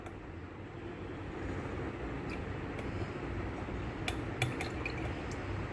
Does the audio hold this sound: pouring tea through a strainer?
yes